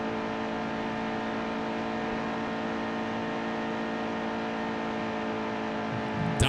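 A race truck engine drones at steady high revs in the racing game NASCAR Heat 2, a loud, continuous whining roar from the cockpit with no letup and no talk.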